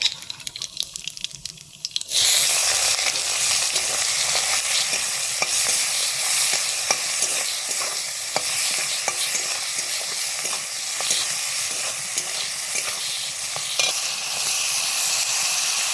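Shrimp fry in hot mustard oil with nigella seeds after a short quiet start. A loud, steady sizzle with scraping stirs then runs alone and close for the rest of the stretch.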